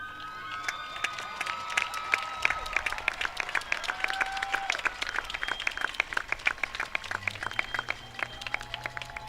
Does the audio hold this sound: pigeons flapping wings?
no